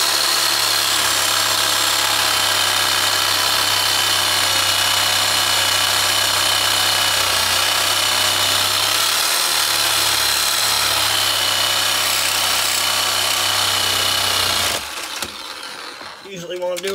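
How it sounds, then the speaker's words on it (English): A Sawzall reciprocating saw cuts through steel under a Fox Body Mustang, a loud, continuous buzzing rasp held close for about fifteen seconds before it cuts off abruptly. "you gotta get your handy dandy Sawzall. And you go in here like this"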